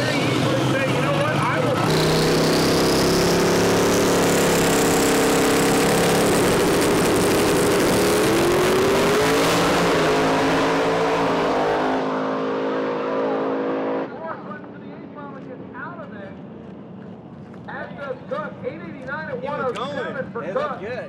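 A drag race car makes a pass down the strip: a loud, roaring engine climbs steadily in pitch as it accelerates, then drops away and fades, with people talking afterward.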